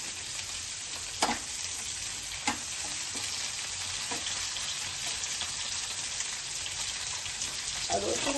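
Tomatoes fry and get stirred in a hot pan while cooking pakal fish curry, a steady bright sizzle with a few sharp scrapes of the spoon against the pan near by.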